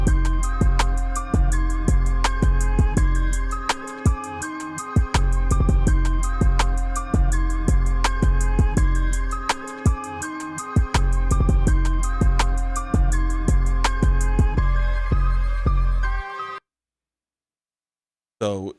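A dry, unprocessed programmed hip-hop beat with kick, snare, hi-hats and an 808 bass, looping in a steady rhythm, loud and alone, with no effects, then cutting off abruptly near the end.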